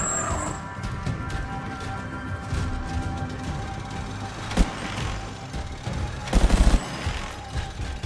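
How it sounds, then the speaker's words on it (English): A turret gun fires in the video game Anthem: a dense, continuous rattle of gunfire over a rumbling game backdrop, with a sharp bang midway and a louder burst of rapid shots near the end, no talking. "Got a whole turret gun in here."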